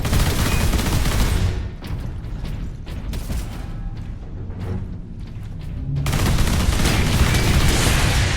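Sentry guns in Warhammer 40,000: Space Marine fire in sustained loud rattling bursts, a long barrage that briefly thins and then resumes at full force.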